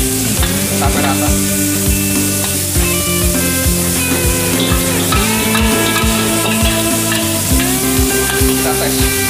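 Green beans stir-fry Szechuan style in a hot pan with a loud, continuous sizzle, broken by regular clanking strokes of a spatula or wok against the metal, close and without talk.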